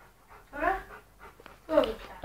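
A dog pants heavily in two short, close bursts while jumping up and playing indoors by a door, with quiet breathing between them.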